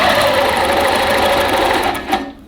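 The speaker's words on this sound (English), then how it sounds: "I'm gonna hit my start button, and I need to stitch back, because I want to get the edge of that piece" A long-arm quilting machine stitches a pocket shopper tote, its steady high-pitched motor whir running loud and continuous before cutting out near the end.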